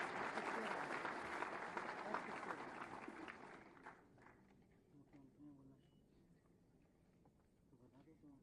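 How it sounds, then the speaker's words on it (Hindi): Loud applause from the audience at a government appointment letter ceremony, thick clapping for about four seconds that then fades out, leaving quiet room sound and a voice beginning to speak. "आप सबकी जोरदार तालियों के अभिवादन के साथ।"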